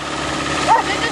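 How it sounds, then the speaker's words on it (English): A cold engine revs high just after a first-try start in snowy winter weather, giving a steady droning whine with a brief louder swell near the end, while people talk nearby. "all cold engines rev high"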